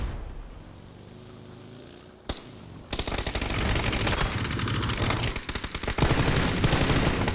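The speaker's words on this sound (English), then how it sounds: "Spyro gets shot at by a lot of people." A player comes under fire in a video game: after a quiet opening and a single sharp crack, heavy machine-gun fire erupts and continues loud and dense to the end.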